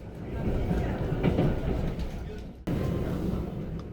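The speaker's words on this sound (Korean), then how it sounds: "무궁화호 열차로 1시간 정도 더 가야 합니다" A Mugunghwa-ho passenger train rolls along a mountain line through short tunnels, its wheels rumbling and clattering steadily as heard from inside the carriage, with a sudden brief drop in the noise before the rumble resumes.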